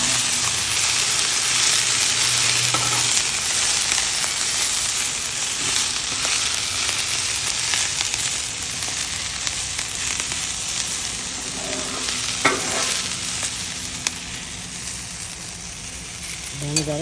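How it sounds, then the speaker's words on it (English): Mushrooms and Italian sausage sizzle on a Blackstone griddle, a steady broadband frying hiss that runs throughout with a few light clicks of a spatula, loud and close. "So here they are, cooking on the grill."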